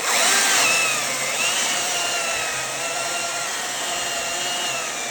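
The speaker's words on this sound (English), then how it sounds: "Now this is felling mode." A chainsaw runs in its felling-mode chain-speed setting with a steady high whine, loudest at the start, then holding an even, close drone.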